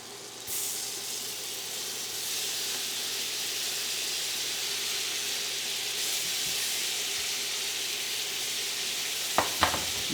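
Shrimp fry in a hot pan with a steady, loud sizzle and hiss that holds for about ten seconds, joined by a few sharp utensil clinks near the end.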